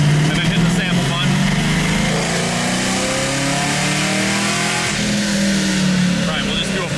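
A fifth-generation Chevrolet Camaro 1LE engine revs steadily during a loaded dyno tuning pull, its rising, sustained mid-pitched drone loud and continuous from start to finish, with a voice speaking over it.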